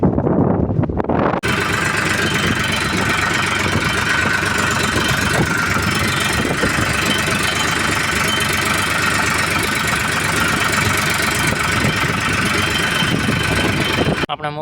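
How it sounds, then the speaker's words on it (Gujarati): A tractor engine running steadily and loud on a farm road near muddy fields, a continuous close rumble with a knocking rhythm that starts abruptly and holds for several seconds. "એ રહ્યું મિત્રો એ ટ્રેક્ટર અમે"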